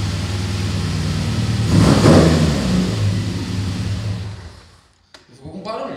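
A forged, naturally aspirated VW Gol GTS engine, formerly turbocharged, idles loudly up close, swelling briefly as if blipped, then dipping almost silent before the rough idle returns.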